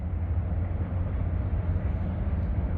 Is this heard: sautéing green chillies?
no